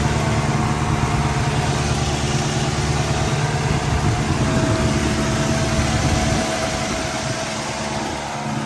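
A 1984 Mercedes-Benz 500SEC Euro with its engine idling steadily and close by, a continuous low rumble with an even tone and a faint exhaust leak hiss, no voices.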